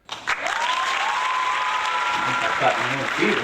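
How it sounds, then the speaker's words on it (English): Studio audience applauding a guest on a talk show, loud sustained clapping that starts abruptly and carries on throughout, with a bit of voice mixed in. "Clap your feet and stomp your hands for our great guest today, Casey Jax."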